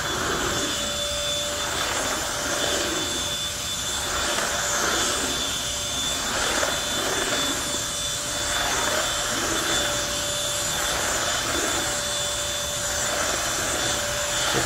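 A Bissell 3-in-1 turbo vacuum cleaner runs on a hotel room floor with a steady, close whirring drone and slight rhythmic swells as it is pushed back and forth, with no talk.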